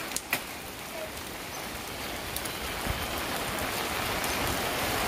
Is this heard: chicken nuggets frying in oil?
no